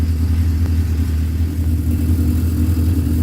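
A Suzuki GS550 cafe racer fitted with pod air filters runs at a steady idle, a loud, close, low throbbing engine rumble with no talking.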